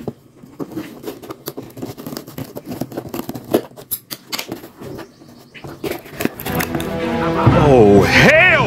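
Scissors snipping open a toy box, a run of sharp, irregular clicks and cuts close by, followed by louder rustling and a person's voice rising at the end.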